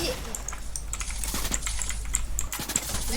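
Rapid computer keyboard typing during a first-person shooter game, a fast irregular clatter of keystrokes throughout, fairly close, with faint voice chat in the background.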